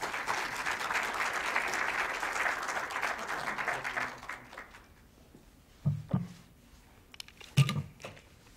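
An audience in a lecture hall applauds warmly to welcome lecturer Nick Mitzevich, a steady round of clapping that fades out after about four seconds, followed by a few quiet knocks and shuffles.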